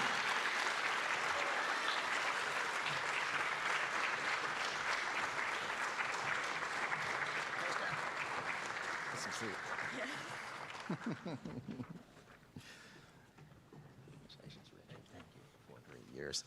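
An audience at BFA-St. Albans' 2022 school music awards applauds two award recipients in dense, sustained clapping that thins out and fades near the end into scattered claps and murmuring voices.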